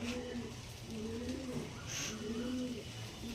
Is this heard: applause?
no